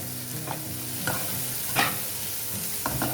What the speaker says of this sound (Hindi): यहाँ पे मैंने इसको हल्का सा फ्राई कर लिया।